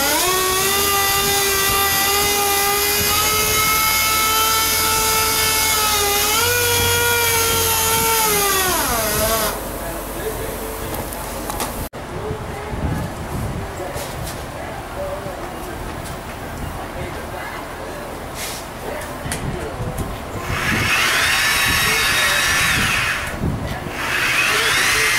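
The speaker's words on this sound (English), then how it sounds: "Sander right here's got this flex pad between the actual sander and the sandpaper" A sander fitted with a flex pad between the tool and the sandpaper works the clearcoat on a BMW 2002. A loud, steady high motor whine wavers for about ten seconds, then drops to a rough sanding hiss that swells again near the end.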